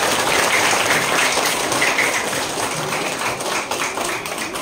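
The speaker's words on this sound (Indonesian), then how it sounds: "Beri tepuk tangan dulu buat kita semua." An audience applauds at an elementary school's P5 project showcase at SD Negeri 1, a steady wash of clapping that holds at an even level for several seconds.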